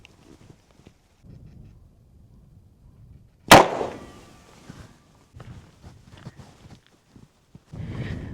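Colt Walker black powder revolver fired once outdoors while hunting, a single sharp, loud blast with a brief ringing tail amid quiet rustling and movement.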